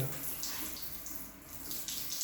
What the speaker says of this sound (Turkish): Sıcak su akıyor.